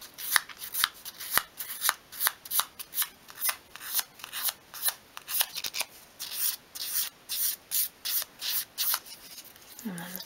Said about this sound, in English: just sort of sweep the sandpaper over the edge, and that'll create a nice rounded edge